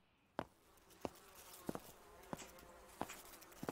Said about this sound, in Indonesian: Yush, banyak lalat coy.